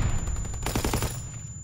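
A rapid burst of automatic gunfire in a Call of Duty video game, several quick shots in a row over steady game background noise, with no talk.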